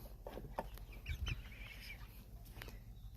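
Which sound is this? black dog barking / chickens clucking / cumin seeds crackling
chickens clucking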